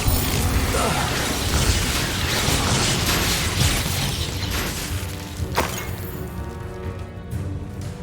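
Explosion spell cast in Hogwarts Legacy: a dense, continuous roar of crashing magical blasts and shattering debris, loud and sustained, with a sharp burst near the middle before the din thins out.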